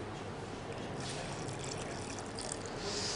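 Water poured into a homemade apple melon juice mixture of sugar, cardamom powder and milk, a soft steady trickle and splash running through the whole moment at low level.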